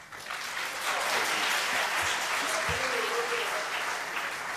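A debate hall audience bursts into continuous applause before Christopher Hitchens speaks, a full, even wash of many hands clapping at moderate distance that swells and then holds steady.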